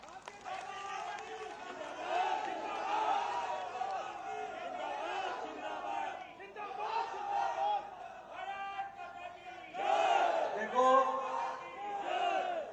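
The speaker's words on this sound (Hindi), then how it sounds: "तालियों की गड़गड़ाहट से और नारों से समझ लेता हूं" A crowd at an outdoor BJP political rally in Gauriganj, Amethi, cheering and chanting slogans in loud rising waves, with a big surge near the end and no single clear voice.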